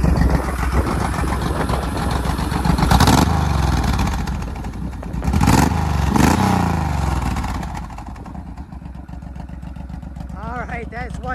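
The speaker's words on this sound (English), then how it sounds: "Some oil get up into there and we'll give it some revs." A 2006 Honda VTX1800 motorcycle engine revs loudly several times, rising and falling over a steady throbbing idle, close by.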